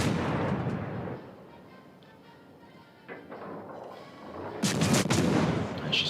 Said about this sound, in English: Blind firing now.